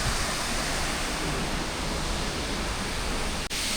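Athirappilly waterfall, among the biggest waterfalls, gives a loud, steady roar of rushing water that stays constant and dense for the whole stretch.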